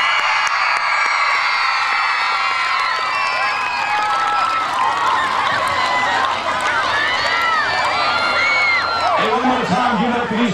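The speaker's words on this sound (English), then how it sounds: "everybody scream, shout, holler, clap for our special guest" A middle school crowd cheers, shouts and whoops for a visiting radio mascot, Mojo of 104.3 WZYP, in a loud, steady roar of many young voices with high excited calls throughout.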